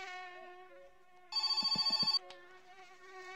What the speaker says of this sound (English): No, I forgot to unplug the phone.